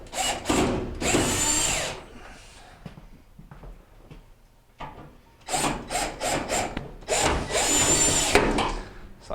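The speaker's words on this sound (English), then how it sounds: "So we're going to get two screws in at the top" A power drill drives screws into the front panel of a GE dryer during repair, in two bursts of loud whirring with clatter and handling noise of metal parts between them.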